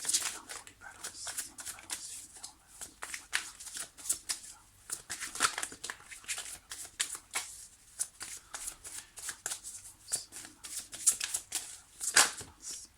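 Tarot cards are shuffled and drawn by hand in a series of quick, close riffling bursts with brief pauses between them, over a quiet background.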